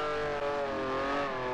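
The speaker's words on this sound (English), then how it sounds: "let me know if you can hear my voice over the engine noise" A simulated race car engine from Grand Prix Legends drones at high, steady revs, a loud continuous buzzing whine with shifting harmonics and no voice over it.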